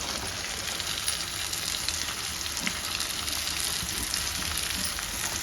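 Finely chopped cabbage frying in a pan over medium heat, giving a steady, even sizzle throughout with no talk over it.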